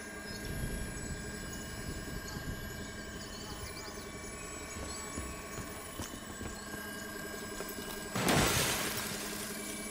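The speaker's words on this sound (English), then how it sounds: "Activating recon drone." A recon drone in Call of Duty Black Ops 3 gives off a steady hovering whir with a thin tonal hum, close and continuous, broken near the end by a short crashing burst.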